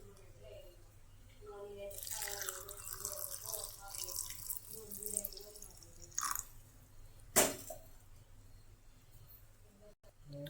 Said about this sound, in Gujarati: આપણે તેમાં થોડું દૂધ નાખીશું